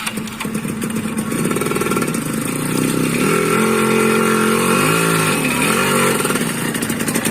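Suzuki Satria two-stroke motorcycle engine starting and then idling, a raspy buzzing drone that settles into a steady, loud, close idle with a slight wavering pitch and no talking.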